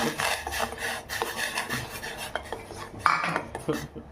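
Thick ragi mudda (finger millet dough) is stirred in a pot with a wooden or metal utensil, making continuous close scraping and rubbing strokes against the pot with occasional knocks.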